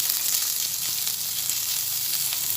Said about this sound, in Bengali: আবার ভালোভাবে নাড়াচাড়া করে নিচ্ছি